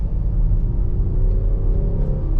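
Cars pass near the Manassas battlefield as a low, continuous rumble of road traffic, steady and moderately distant, with no voices.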